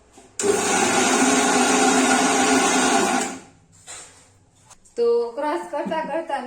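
A kitchen mixer grinder grinds dosa batter with a loud, steady whir for about three seconds, then cuts out as the appliance fails. A brief quieter stretch follows, and a voice begins talking near the end.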